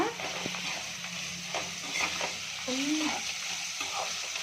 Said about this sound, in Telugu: సాల్ట్ కూడా కలుపుకోవాలి కొంచెం సాల్ట్ వేసుకొని కలుపుకోవాలి